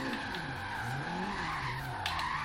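A Nissan Silvia S14 with stock tires drifts in Forza Horizon 3, its tires squealing continuously over the wavering drone of the engine as it slides.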